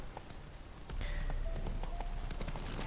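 Horse hooves pound in a steady galloping clip-clop in The Witcher 3, with a short quieter stretch before the ride speeds up and continues loud and even.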